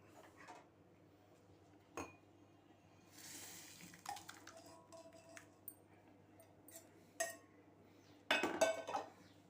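Cooked bottle gourd kootu is served out of a pot with scattered metallic clinks and scrapes of a spoon against the vessel, soft and close in a quiet kitchen.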